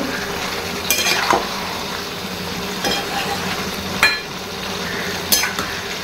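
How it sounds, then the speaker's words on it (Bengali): Meat sautéing in a pan on a gas stove: a continuous sizzle with intermittent sharp scrapes and clinks of a metal spatula against the pan, fairly close and loud, with no talking. "এই গ্যাসটাতে আমি মাংস কষাচ্ছি, মাংস কষানো হচ্ছে বুঝলে"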